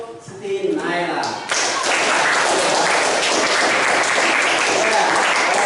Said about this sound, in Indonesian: Tepuk tangan untuk Siti Naila.